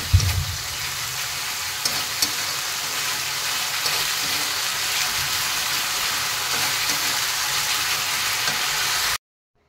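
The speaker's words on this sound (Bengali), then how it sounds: "মশলাটাকে এবার একটু আমি হালকা নাড়াচাড়া করে ভেজে নেব।" Ginger, cumin, green chili paste and coriander powder fry in a pan for a potato and fish curry, giving a steady, close hiss of sizzling that runs the whole time with faint stirring and no talk.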